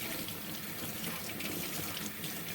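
Baby carrots rinsed under a running kitchen tap while preparing kimchi, a steady, continuous rush of water splashing into a sink, close and even throughout with no voices.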